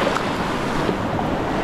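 Sea waves in the Philippines, a continuous dense wash of surf with heavy wind buffeting the microphone, loud and close without pause.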